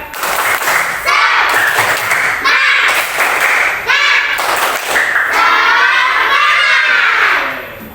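An elementary school class performs a rhythmic cheer clap, loud patterned claps and thuds mixed with children's chanting and shouting voices that carry across the whole stretch.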